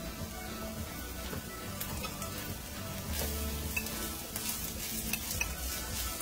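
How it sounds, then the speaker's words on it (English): Onions sauté in a pan as the base for a split pea and shrimp dish, a soft continuous sizzle with occasional stirring clinks and scrapes, moderately close and without speech. "So we'll be putting in some onions in here to saute first."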